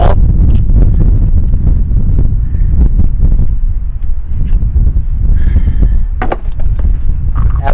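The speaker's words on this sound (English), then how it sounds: "The wind blows over there" Outdoor wind buffets the microphone beside a 1994 S10 pickup under repair, a loud, steady low rumble with gusting swells and a few faint clicks, no talking.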